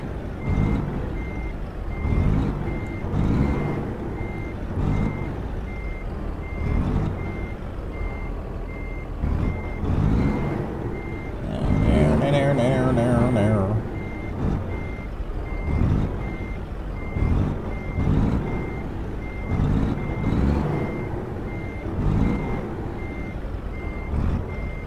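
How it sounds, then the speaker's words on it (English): Reversing beeps from a truck in American Truck Simulator, a steady repeating alarm pattern running throughout alongside engine rumble, with a short burst of louder mechanical noise midway. "Truck back this way."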